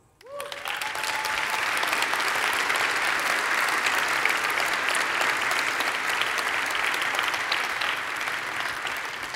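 Conference keynote audience breaking into sustained applause, dense clapping swelling quickly and holding steady at full volume throughout, with no talk over it.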